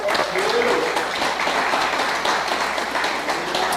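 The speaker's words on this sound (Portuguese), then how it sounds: "dê uma salva de palmas ao Senhor" A church congregation applauds at a worship service, a dense, steady wash of clapping that carries through the whole stretch without a break, with some voices mixed into it.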